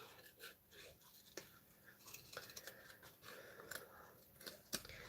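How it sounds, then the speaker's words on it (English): Scissors snipping through card in short, irregular cuts, close and quiet, with soft pauses between the crisp clicks of the blades. "So when you're fussy cutting, you want to"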